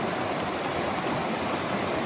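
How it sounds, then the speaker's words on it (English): Stream water rushing across a trail crossing on the Continental Divide Trail, a steady broadband wash of flowing water that stays close and constant throughout, with no voices. "It's like we got a water crossing first thing in the morning."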